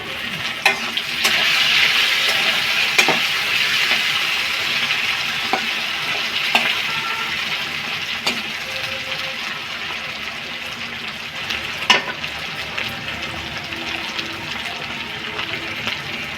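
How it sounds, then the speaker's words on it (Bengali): Potato pieces fry in a pan of oil with a little turmeric, giving a steady, bright sizzle that runs throughout, broken by occasional clicks and scrapes of stirring. "একটু আলুটা ভেজে নেব। একটু সামান্য হলুদ দিয়ে দেবো, আলুটা ভালো কালার হবে।"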